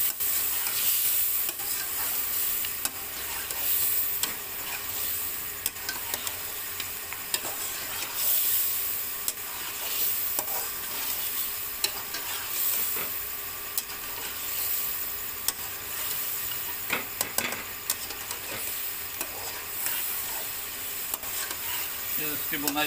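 Masala fries in a kadhai with a little added water for Peshawari chicken karahi, giving a steady close sizzle and hiss throughout, with stirring scrapes on top.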